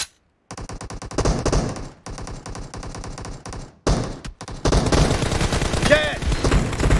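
PUBG Mobile team deathmatch gunfire: repeated rapid automatic bursts, loud and close, broken by short silent gaps, with shouted callouts over the shooting.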